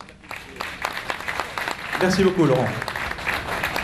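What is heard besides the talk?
audience applause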